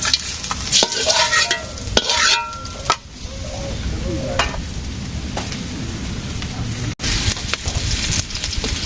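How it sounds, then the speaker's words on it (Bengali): Small fish fry in oil in a pan in a village kitchen, with a loud continuous sizzle. A utensil scrapes and stirs them in repeated bursts, and there is a sharp knock near the end. "মাছ ভাজি হয়ে গেছে।"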